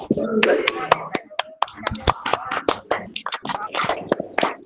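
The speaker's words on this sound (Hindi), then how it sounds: "बहुत जोरदार तालियां हो जाए एक बार पूरे सदन की तरफ से" Participants of a yoga session clap together in scattered, uneven bursts, sharp hand claps overlapping near and far with some talk underneath.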